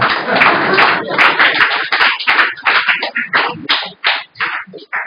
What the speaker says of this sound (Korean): 보통 이러면 박수 치는데